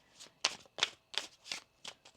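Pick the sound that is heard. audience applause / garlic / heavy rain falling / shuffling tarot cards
shuffling tarot cards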